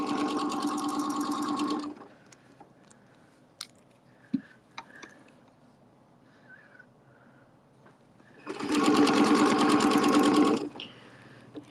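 A sewing machine stitches fabric for a Valentine's Day project in two loud, steady close-up bursts, the first about two seconds long and the second about two more, separated by quiet handling taps and small rustles.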